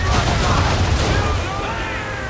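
Cannon and musket volley fire on a sailing ship in Assassin's Creed, a loud rolling barrage of booms and cracks that fades into a long tail, with voices shouting beneath it.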